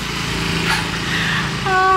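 A semi-automatic motorcycle engine idling and revving on a street in Hanoi, a steady close buzzing drone that swells slightly, with a higher-pitched tone entering at the end; no talk.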